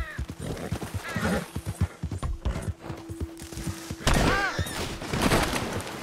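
A horse in the video game Red Dead Redemption II neighs with a rising, shaky whinny near the end, preceded by clip-clopping hooves and busy outdoor game sounds, with no talk.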